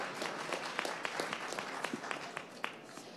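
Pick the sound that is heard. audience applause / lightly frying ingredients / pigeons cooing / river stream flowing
audience applause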